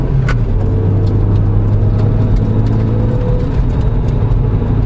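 Inside a Proton Satria Neo on 15-inch Westlake Ultra High Performance tyres, a loud, steady tyre roar and engine hum fill the cabin without a break.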